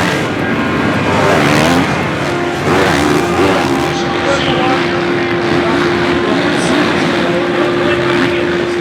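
Factory Honda and Rockstar Husqvarna motocross race bikes roar loudly and continuously through a race pass, engine pitch rising and falling, with a steady tone and a commentator talking over the noise.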